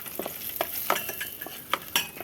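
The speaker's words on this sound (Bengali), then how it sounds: "বাদামটা আমি আগে আমার ভাজা ছিল, তো এখন আমি তেলের মধ্যে দিয়ে একটু গরম করে নিচ্ছি।" Pre-roasted peanuts are warmed in hot oil in a pan, with quick, close scraping strokes of a spoon over a light sizzle.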